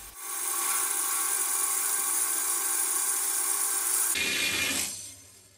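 A power saw cuts 50 by 50 mm steel angle, 5 mm thick, to 900 mm length: one continuous close, loud grinding cut lasting about four seconds, then a change in tone as it winds down.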